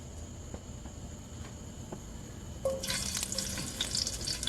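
Cloves of garlic drop into hot olive oil in a pot and burst into a loud, crackling sizzle partway through, after a quiet stretch of faint background hiss.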